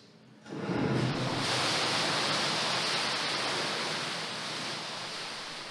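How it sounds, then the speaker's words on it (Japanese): Tsunami-simulating water from a tank hits a wall in a laboratory flume and throws up spray. The sound is a sudden broad rushing splash that swells quickly, then holds as a steady, dense wash that slowly eases, with no voices. "津波を再現した水は壁にぶつかり水しぶきを上げます"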